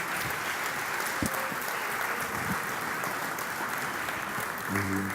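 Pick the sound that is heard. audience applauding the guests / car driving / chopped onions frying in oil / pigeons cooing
audience applauding the guests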